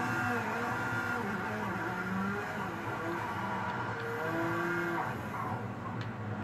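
Race car engines in the PC video game Project CARS 2, a steady loud drone of engines revving and shifting pitch as cars run together, continuous with no talking.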